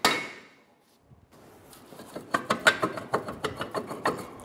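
A hammer taps around the hat of a brake rotor on a 2012-2016 Subaru Impreza to free it: a rapid run of close metallic knocks that builds in loudness after a short initial clank.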